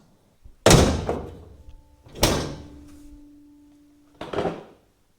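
A Galant hardtop car door shuts three times in close succession, each a solid nearby thunk followed by a short ringing decay, with quiet pauses between.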